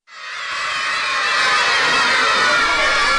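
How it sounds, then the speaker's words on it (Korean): A crowd of village schoolchildren in Chittagong, Bangladesh cheer and shout together over milk, a loud, dense roar of high voices that swells in quickly and holds steady without a break. "아이들이 환호성을 지르는 건 바로 우유 때문인데요"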